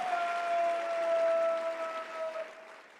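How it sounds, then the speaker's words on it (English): Broad, sustained clapping from a crowd, steady for a few seconds before easing off, with a faint tone running underneath. "Give a round of applause."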